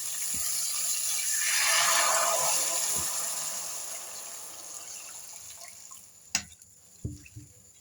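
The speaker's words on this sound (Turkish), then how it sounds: "Şöyle 5 su bardağılık su ekliyorum." Water pours into a pot for meatball soup, a soft splashing swell that builds and fades over a few seconds, followed by a couple of sharp clinks and knocks of a pot or utensil.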